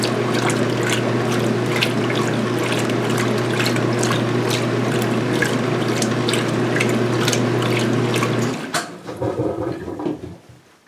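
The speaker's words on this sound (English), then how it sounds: "Now this is going to be a high-speed spin drain" A washing machine drains water with a steady humming pump and gurgling flow, close and loud, before the hum cuts out near the end and leaves softer trickling and clunks.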